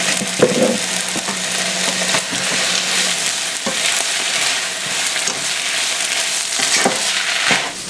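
Onions with about two teaspoons of balsamic vinegar frying in a skillet, a loud continuous sizzle with occasional stirring scrapes and knocks, close up and without talk.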